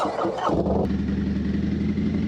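A motorcycle engine starts up and settles into a steady running note as riders set off, close and moderately loud, with brief rustling at the start.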